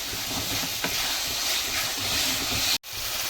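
Ginger garlic paste sautéing in a pan for boti kudal gravy, a steady close hiss and sizzle running throughout, with a faint tap of a spoon and a brief drop to near silence near the end.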